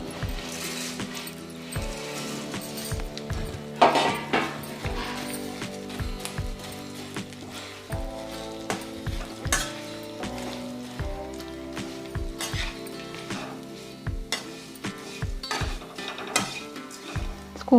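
Poha flakes are stirred in hot oil in a pan for a crispy snack mixture, a spoon scraping and clinking in irregular bursts over a soft, steady sizzle.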